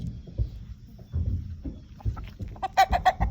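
Soft clucking from chickens, with a few brighter squawks toward the end, close by amid some low rustling.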